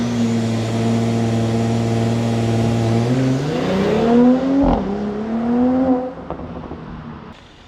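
A 2017 Mercedes C43 AMG on snow tires and 93-octane fuel launches, its engine note climbing loud and close through upshifts before easing off and fading at the end.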